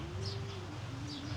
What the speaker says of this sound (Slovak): Počujete vtáky,